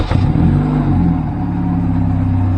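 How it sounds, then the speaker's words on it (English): A car engine starting on the first turn of the key after a blown ignition coil was replaced, then settling into a loud, slightly rough idle rumble close by. "first turn of the key, and bosh, she's running."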